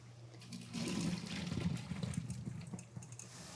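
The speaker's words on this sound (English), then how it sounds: "The potatoes are ready to drain, so I'm gonna go ahead and drain them." Boiled potato pieces being drained from a pot, with a soft rushing pour of water that swells and then trickles away, heard close and quiet with no voices.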